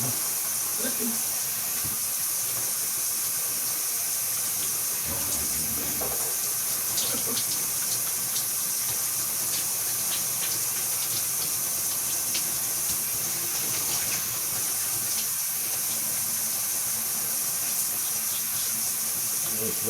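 Shower water running steadily during washing, a constant close hiss of spray with small splashes and shifts as someone moves under it, no talk.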